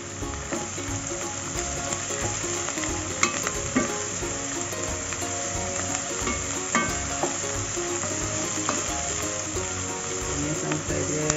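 Tomato, sweet ingredients and spices with a pinch of fenugreek sautéing in a pan for fish curry, giving a steady, continuous sizzle and crackle with occasional stirring clicks and no speech.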